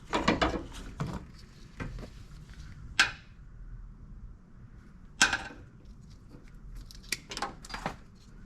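Flush cutters snipping wiring in a GM OBS truck engine bay, a few sharp isolated clicks spaced seconds apart amid quieter handling and rustling of wires.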